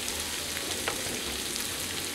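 Onions sizzle in a pan for Tunisian ganaouia, a steady, even frying hiss with small crackles, moderately loud and close, with no talking.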